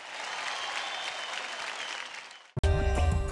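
Studio audience applause for a singer on a televised Indian singing competition, a dense wash of clapping that fades out after a couple of seconds before music cuts in.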